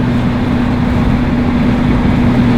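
An automatic VW Golf accelerates with a steady, loud engine drone and a constant low tonal hum, heard from inside the car with no talking.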